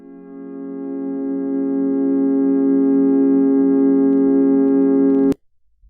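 A live-made ambient synth soundscape with reverb: a steady, loud harmonic drone swells gently, holds for about five seconds, then cuts off abruptly, leaving a brief faint tail.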